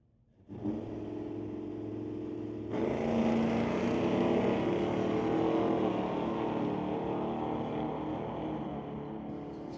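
Drag racing cars, a Chevelle and an SBB Racing Dodge Dart, run down a quarter-mile strip; engine roar starts abruptly, then swells louder as a second engine joins and holds a sustained, droning wail to the end.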